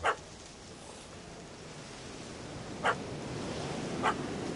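A few short dog barks in the video game The Witcher 3 Hearts of Stone, one at the start and two more spaced near the end, over a steady noisy outdoor ambience with no talking.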